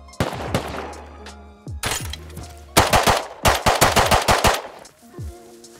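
Bursts of gunfire in the survival game Rust: a loud opening volley, then scattered single shots, then a dense rapid run of shots before things go quiet.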